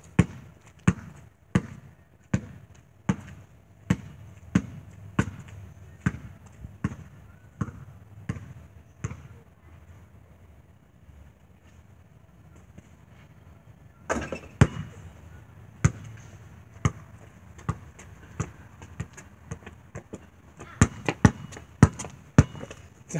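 Basketball shots and bounces on a court, a steady run of sharp, evenly spaced thuds, then a short quieter gap, then another cluster of bounces and impacts near the end, with no talking.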